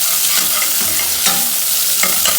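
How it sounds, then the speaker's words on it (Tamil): Onions fry and sizzle loudly in a pan for dry fruits pulao, stirred with a few scraping strokes over a steady crackling hiss, close and with no talk. "இப்போ வெங்காயம் போடுவோம்."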